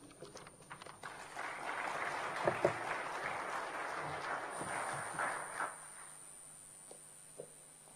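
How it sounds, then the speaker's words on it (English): Audience at a high-level Commonwealth event applauds with a steady, moderately faint patter of clapping that swells briefly then thins out toward the end. "Please give another round of applause."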